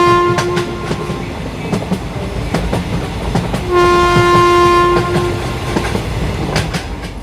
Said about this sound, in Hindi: कुछ ही देर में ये ट्रेन एक सुनसान इलाके में रुक जाती है।